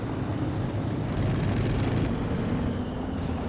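A recon plane in Company of Heroes 2 gives a continuous, steady engine drone, loud and unbroken throughout, with a faint higher whine appearing briefly toward the end.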